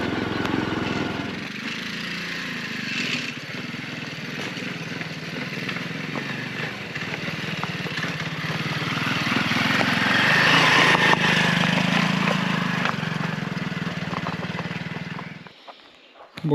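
A motorcycle engine runs continuously while being ridden over rough ground, rising in intensity midway before cutting off near the end.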